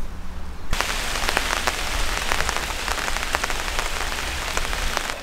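Rain pours down on a fishing trip, starting abruptly after a quiet moment and then holding as a loud, dense patter with sharp individual drops striking nearby surfaces, with no talking.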